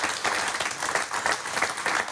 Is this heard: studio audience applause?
yes